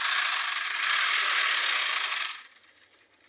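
A sewing machine stitches a skirt seam in a steady, fast, high-pitched mechanical whir lasting over two seconds, close and fairly loud, before slowing and fading out, with no talking.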